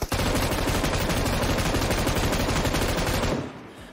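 Sustained rapid automatic gunfire in PUBG Mobile, a dense loud burst of shots running for over three seconds before cutting off abruptly into quiet.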